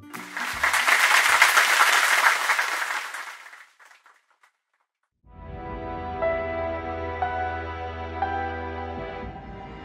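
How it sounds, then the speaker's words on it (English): An audience bursts into applause, dense clapping for about three seconds that fades to silence, followed by a stretch of music. "and everyone applauds"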